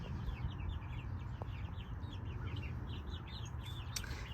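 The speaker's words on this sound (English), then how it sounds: "Right now, we have the chickens free ranging." Soft clucking and chirpy calls from free-ranging chickens on a homestead over a low background rumble, fairly faint and continuous.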